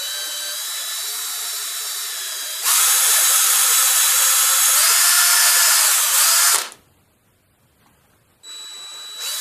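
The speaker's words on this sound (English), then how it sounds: "I need to drill into that vertically straight down" Electric drill boring straight down into a wooden frame for a drop-down clothes airer, a high whining motor that rises in pitch and pushes harder midway, stops for a moment, then starts again, close and loud.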